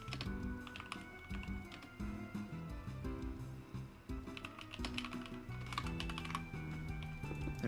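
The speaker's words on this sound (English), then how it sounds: "so that's why I'm just typing now" A computer keyboard clatters in fast, continuous bursts while someone plays Minecraft, with game music humming faintly underneath.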